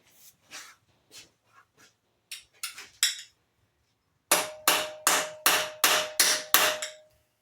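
A socket wrench worked on the PCV valve cover of an 18 HP Briggs & Stratton opposed V-twin engine: sparse light ticks, then a run of six or seven loud, evenly spaced metallic clacks close by, with no talking.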